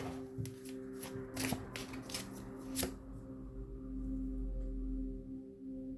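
Cards are shuffled in a few quick riffling bursts, close and crisp, followed by a low rumbling handling noise with steady hum underneath.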